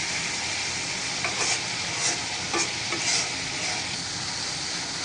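Masala spice paste being stir-fried in oil in a village kitchen, a dense continuous sizzle with a few soft spoon scrapes over it, near and steady, no talking.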